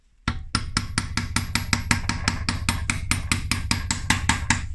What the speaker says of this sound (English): I took a hammer and I punch it just a little inside